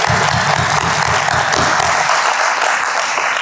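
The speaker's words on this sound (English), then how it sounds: "let's give them a round of applause real quick" Loud, dense applause from an audience at a school board of education meeting honoring staff members, steady broadband clapping sustained throughout with some low murmur early on.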